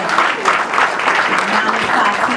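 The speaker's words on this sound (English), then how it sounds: "Clap it up to the brother." Close, loud clapping from a lecture audience acknowledging a speaker, a brisk burst of hands that holds steady with a few voices mixed in.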